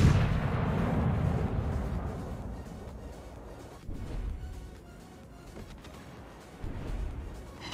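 Main guns of the Iwami battleship firing in a naval video game: deep rumbling blasts, a heavy boom at the start followed by rolling low thunder and further muffled salvos, with no talking.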